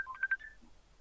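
A quick run of about five phone dialing tones beeping in fast succession while ringing someone, faint and close, then silence.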